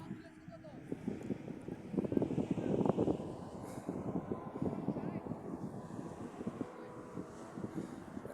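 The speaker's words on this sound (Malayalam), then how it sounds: "കാറ്റ് വീശുന്നുണ്ട്" Steady wind blowing outdoors, a low rumbling gust noise that swells in the middle, with voices faintly mixed in.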